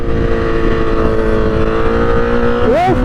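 A motorcycle fitted with a titanium exhaust drones loudly and steadily up close, its engine note rising sharply in a quick rev near the end.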